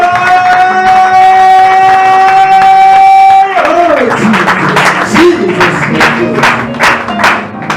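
A church congregation bursts into clapping and cheering for the Lord after a sustained tone ends, with loud, crowded applause and voices filling the space.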